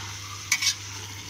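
Four tomatoes sizzling in hot oil in a pan while being cooked for vegetable pulao, with a steady fry hiss and two quick scraping stirs of a spoon partway through, close up and without speech.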